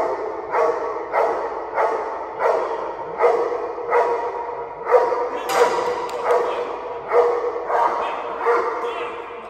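A dog barks repeatedly and loudly at close range in a steady rhythm of about one bark per second, during a security operation searching a business site for an intruder.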